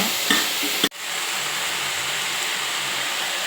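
Masala fries in a pan for a Karnataka village-style avarekalu sambar, a steady, close sizzle with stirring, interrupted by a sharp knock just under a second in before the hiss continues alone.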